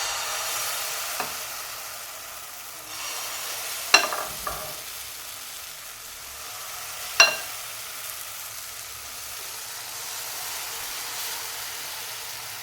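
Eggless wheat pancake batter for a vegan chocolate banana pancake, sizzling on a hot pan as a steady soft hiss, with a few sharp clicks from utensils and no talking.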